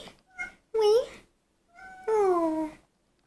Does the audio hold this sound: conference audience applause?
no